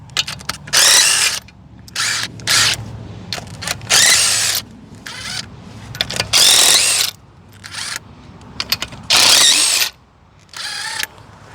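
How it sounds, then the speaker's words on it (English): A ratchet loosens the 5/8-inch bolts on a Mercury Alpha One boat outdrive, giving loud, close bursts of whirring and clattering, about one second each, separated by short pauses, with no talking. "Next, you're going to take all of your 6 bolts off."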